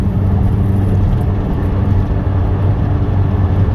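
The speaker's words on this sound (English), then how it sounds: "So I'm just cruising right now, 5th gear" Heard from inside, a car cruises steadily in fifth gear with a constant low engine drone and road hum, even and loud with no changes in pitch and no talking.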